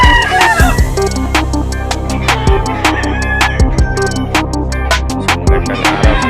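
Pet chickens cluck and a rooster crows nearby, loud and close, over a busy mix of sharp clicks and knocks and a low steady hum.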